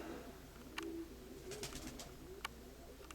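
Soft pigeon coos murmur at a distance over steady background noise, with a few faint clicks and taps scattered throughout, in the Konotop area of Ukraine.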